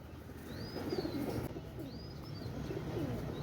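A pair of Nildumba pigeons coo low and soft at close range, with a few thin chirps above the murmur and a quiet background hum.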